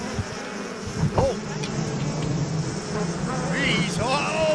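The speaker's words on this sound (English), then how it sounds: "Bees! Oh, bees!" Bees buzz loudly and close in a garden, a steady droning hum with rising and falling whines as individual insects pass, while a voice talks briefly beneath.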